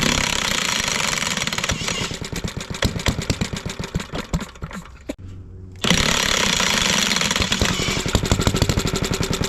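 An old Iron Horse engine runs with a rapid, loud mechanical chugging. It cuts out briefly into near silence, then roars back to a steady, hammering idle.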